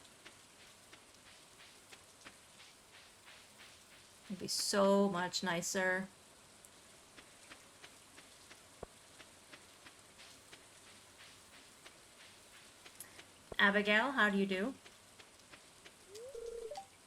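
Steady in-game rainfall in Stardew Valley Expanded, a soft even hiss filling the whole stretch while two short bursts of a voice speak over it.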